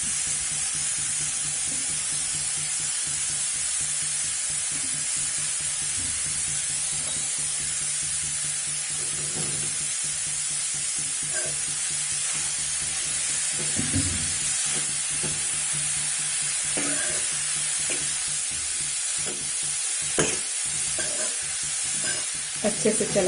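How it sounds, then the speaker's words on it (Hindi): Grated carrot is stirred and roasted in a pan for gajar ka halwa. A steady hiss runs throughout, broken by scattered scrapes and clinks from the stirring spoon. The sound is close, and no one talks. "अच्छे से चलाते हुए हमें इसे 1 मिनट तक भूनना है"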